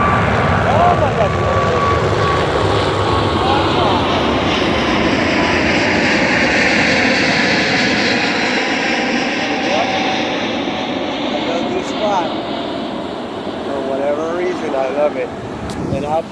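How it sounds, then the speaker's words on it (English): An airplane passes over Dockweiler Beach, a steady broad engine roar that swells and holds loud throughout, with a person talking over it. "And there's another airplane coming."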